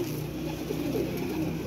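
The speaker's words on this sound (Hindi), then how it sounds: "ये हैं कबूतर जी" Pigeons from a flock of 28 flying birds coo steadily in a low, continuous murmur close by, with no talk over them.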